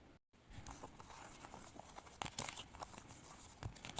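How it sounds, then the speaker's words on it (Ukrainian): A tarot card deck being shuffled and flipped through, with soft papery flicks and patter at close range, quiet and without speech. "Тасуємо колоду, як зазвичай, і знаходимо карту місяця."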